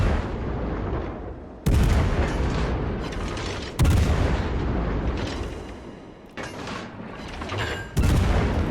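Main-gun salvos from the USS Des Moines heavy cruiser in a naval video game, four loud booming shots at a quick, steady rate, each followed by a rolling rumble that fades before the next.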